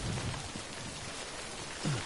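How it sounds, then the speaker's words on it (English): Rain in the video game Death Stranding patters in a steady, fairly loud wash with faint low thumps, continuous throughout with no speech. "Gotta get out the rain."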